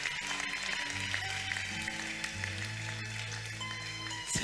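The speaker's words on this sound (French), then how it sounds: "Applaudissons pour le Seigneur" A church congregation claps for the Lord during a worship service, a dense, steady wash of applause layered over sustained keyboard or organ tones throughout.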